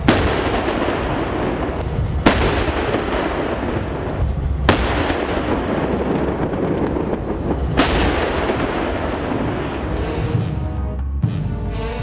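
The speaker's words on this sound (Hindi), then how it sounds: "टैंक से गोला लॉन्च हुआ नहीं कि दुश्मन का ठिकाना धुआं धुआं हो गया।" K9 Vajra self-propelled gun firing shells at the Mahajan field firing range in Rajasthan: four sharp, heavy booms spaced a few seconds apart over a loud continuous rumble and dramatic background sound.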